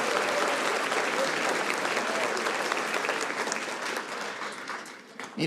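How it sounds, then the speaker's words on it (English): Sustained applause from a Match Day 2024 audience at the Kirk Kerkorian School of Medicine at UNLV, honoring families and loved ones; dense, even clapping that slowly tapers and fades toward the end. "So let's have a round of applause for the families and the loved ones that have supported you all."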